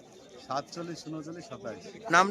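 Low, throaty pigeon coos repeat in short bursts close by, overlapping with a person talking, at a livestock and pigeon market.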